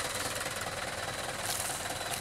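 Yanmar EF494T marine diesel engine running on a boat, a steady, dense mechanical drone with rhythmic knocking texture, close and continuous with no talk.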